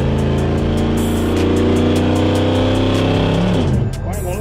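A 1971 donk car's engine roars loud and close in a sustained rev that holds high, then drops toward the end, with voices talking over it.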